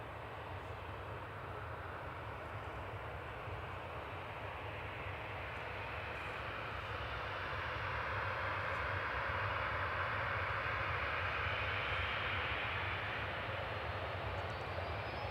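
An Aer Lingus Regional ATR 72 turboprop arriving from Belfast at Manchester Airport, a steady broad engine roar at moderate distance that swells slightly in the second half, with no voices.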